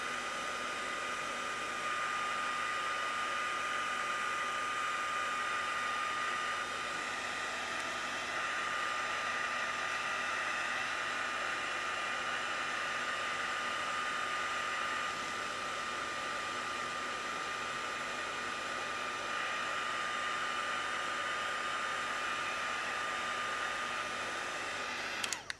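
A heat embossing tool blowing hot air over embossing powder, a steady loud whooshing hum that runs unbroken and alone, then clicks off abruptly at the end.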